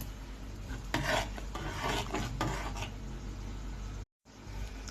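A spoon stirs starch into boiling milk in a pot for muhallabia, giving a steady scraping, rasping rhythm with a few louder strokes, close and continuous, with no talk.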